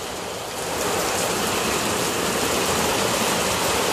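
Heavy rain pours down in a dense, steady hiss that swells louder after the first half-second and keeps falling without a break, close by and with no voices.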